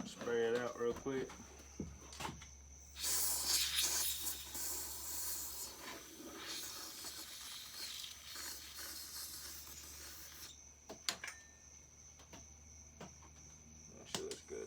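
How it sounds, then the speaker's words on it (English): A spray can hisses in a long continuous burst for several seconds, close by, spraying out a Pioneer farm saw flywheel crank seal area, followed by a few clicks and handling sounds. "Spray it out real quick."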